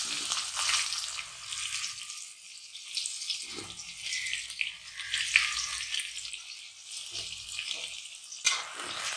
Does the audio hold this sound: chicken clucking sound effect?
no